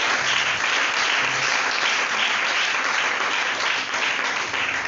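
A church congregation applauds loudly and continuously, a dense steady wash of clapping acclaiming the Lord with no break.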